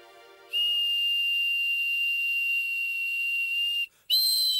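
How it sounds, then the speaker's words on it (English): A shrill, steady homemade toy whistle blows for about three seconds, stops briefly, then sounds again at a slightly different pitch. "That's why I made these whistles for them."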